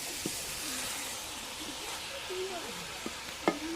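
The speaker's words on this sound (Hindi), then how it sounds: "इसको हल्की आग पे इसको अच्छी तरह भून ले, चेक करते रहें ताकि नीचे पकड़े।" Cabbage and egg frying in a pan over a low flame give a steady, soft sizzle throughout, with a few faint scrapes and clicks of stirring near the pan.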